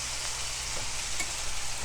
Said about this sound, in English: you want to keep cooking it until it browns and you can see no pink